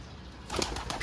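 A bird, probably a pigeon, flaps its wings in a short, close burst of soft fluttering that starts about halfway through and comes in a few quick beats.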